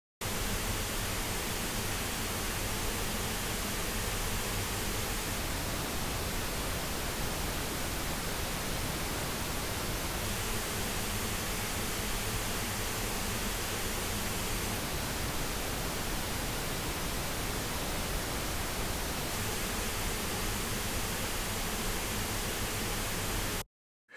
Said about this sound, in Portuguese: eu percebo que o ruído rosa escurece um pouco